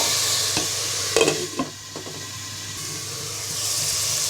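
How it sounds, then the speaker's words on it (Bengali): Spice paste of garlic and cumin fries in a covered pan, giving a steady hissing sizzle with a few brief stirring clatters and steam noise, close and fairly loud. "এবার ঢাকটা দিয়ে ঢেকে মশলাটাকে পাঁচ মিনিট কষিয়ে নিব"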